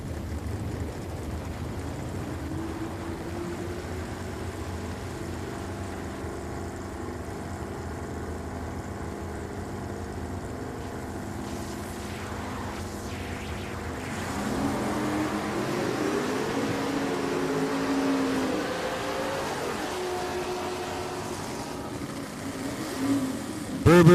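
Fox-body Mustang and a 1971 Jags Maverick on a drag run at Richmond Dragway: a distant engine drone builds into a louder roar midway and holds, heard from the stands without speech.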